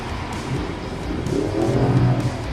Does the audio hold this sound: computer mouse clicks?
no